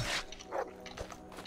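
A dog barking in the video game GRAV, with a couple of short yelps and barks over quiet game ambience, fairly close and moderately loud.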